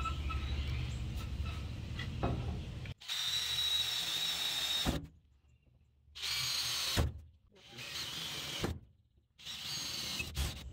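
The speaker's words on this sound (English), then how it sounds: "So I'm just going to drill these holes" A power drill boring holes in sheet metal on a 1966 Ford Bronco during restoration, four separate whining bursts a couple of seconds each with short quiet gaps between, close and steady.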